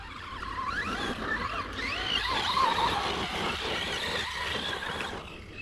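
RC car on Talon EXT or Sledgehammer tires spinning out on soft dirt, a faint whining motor and scrabbling skid running steadily for several seconds with no talk.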